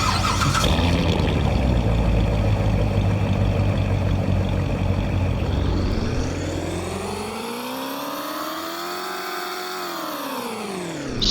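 A 2019 Durant Manta car engine in the Roblox game Greenville cranks and catches with a rumbling roar, then a rising and falling whine sweeps upward and back down as the motor revs.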